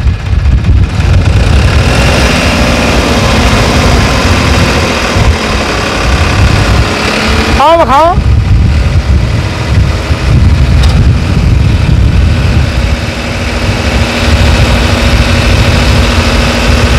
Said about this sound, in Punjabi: ਟਰੈਕਟਰ ਚੱਲੇਗਾ ਹੁਣ ਆਪਾਂ ਘੱਟ ਆਰਪੀਐਮ ਜਾਣੀ ਕਹਿ ਸਕਦੇ ਆ 1500 ਚੱਕਰ ਤੇ ਵੀ ਵਾ ਕੇ ਤੁਹਾਨੂੰ ਵਿਖਾਲਦੇ ਆ ਟਰੈਕਟਰ ਨੂੰ